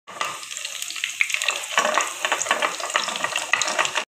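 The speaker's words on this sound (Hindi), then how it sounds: "यहाँ पे लगा रही हूँ मैं तड़का" Spices and garlic crackle and sizzle in hot oil for a tadka tempering, a bright continuous fizzing with scattered pops, close by.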